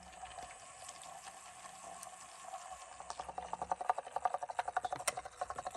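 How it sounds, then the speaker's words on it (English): Water pours and trickles steadily from a small spinning sponge-cleaning device onto a kitchen counter, a soft continuous splashing that grows into quicker, louder dripping pulses toward the end. "the water's spilling out here on the counter"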